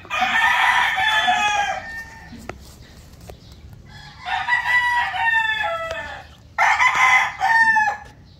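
SBR pullets and a bullstag in a farmyard, three loud close bursts of rooster crowing and raspy clucking calls separated by short quiet gaps with faint background noise.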